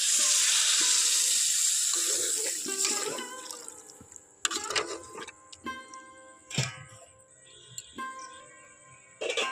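Water goes into a pan of frying masala for shrimp curry, a bright hiss and sizzle that fades over a few seconds, followed by scattered clinks, taps and bubbling.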